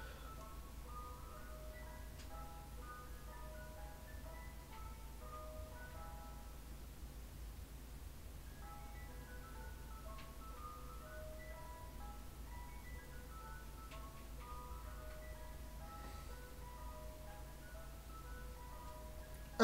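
A repetitive electronic ice cream truck melody loops on and on from somewhere down the street, steady and tinny over low background rumble.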